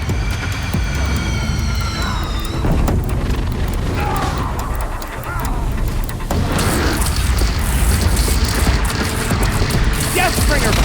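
Heavy booming blasts and bursts of fire from a Deathbringer machine in Horizon Zero Dawn, loud and continuous, layered over game music with tonal whines and crackling impacts.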